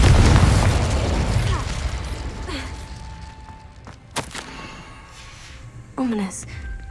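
A Confringo fire spell from Hogwarts Legacy bursts with a sharp blast and then a fiery pop, amid a busy game soundscape of whooshes and rumbles.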